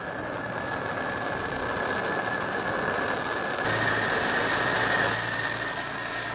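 Gas torch for soldering a leaking motorcycle fuel tank, releasing gas during a test: a steady, loud hiss with a droning rumble that thickens partway through, running continuously without pause.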